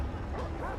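Dogs in the Far Cry video game give short yelping barks and whimpers, close and fairly loud, mixed into dense game sound with no talking.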